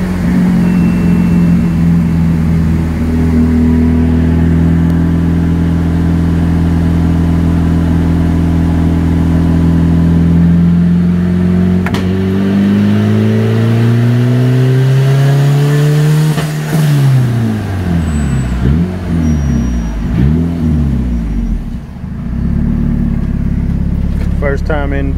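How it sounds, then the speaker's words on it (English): A B16-swapped 1989 Honda Civic runs a dyno pull with VTEC off, its engine droning loudly as the revs climb steadily before dropping back and settling into a rough idle. "we're going to do a pull with VTEC turned off and see what our air fuels are on the low cam"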